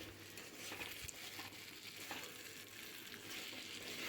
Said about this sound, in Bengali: 1 চামচ গোটা পোস্ত ওই তেলের মধ্যে দিয়ে একটু ভাজা ভাজা করে নেব